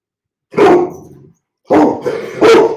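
A large dog barks at the front door indoors, giving three loud, deep, close barks in two bursts separated by short silences.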